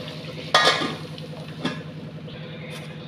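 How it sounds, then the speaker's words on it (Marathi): Palak soup is poured into a hot kadhai greased with ghee, a sharp splash and sizzle followed by a smaller second splash, then a steady low bubbling simmer. "हे सूप टाकणार आहे कढईमध्ये आपण."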